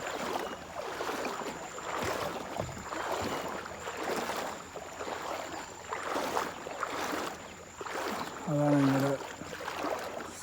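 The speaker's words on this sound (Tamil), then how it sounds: "இது எங்களோட சின்ன போட்" A small boat moves through a natural harbour, giving a steady wash of water and wind noise throughout with a soft engine-like hum near the end; no talk.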